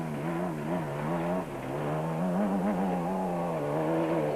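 An ailing Toyota Hilux rally truck races hard in the Baberspan 1000 1993, its engine holding a strained, high revving whine that dips briefly and climbs again, loud and sustained.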